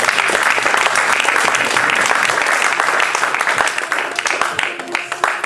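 A church congregation claps and cheers in loud, sustained applause that fills the room and fades slightly toward the end, with voices mixed in.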